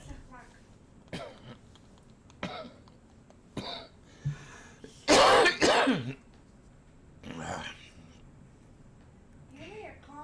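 Several sharp coughs and throat-clearing bursts from a person, scattered through an otherwise quiet stretch, with one louder, longer coughing fit in the middle.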